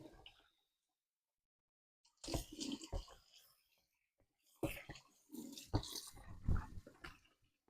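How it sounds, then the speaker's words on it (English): Water splashing and sloshing in bursts as a garden basket is rinsed out, close and fairly loud, separated by a stretch of near silence. "let me wash my basket out"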